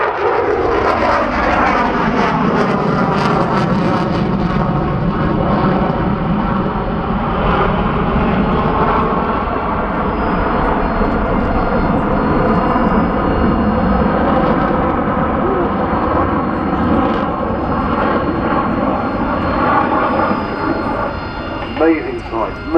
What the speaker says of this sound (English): Amazing sight, amazing agility, I think you'll agree, of the Super Hornet.